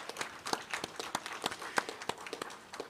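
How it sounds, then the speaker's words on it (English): An audience at a courthouse commissioning ceremony applauds two women, with a sparse, uneven clapping of individual hands close to the microphone for a few seconds. "I invite you to give them a round of applause."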